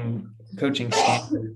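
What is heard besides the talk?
sneeze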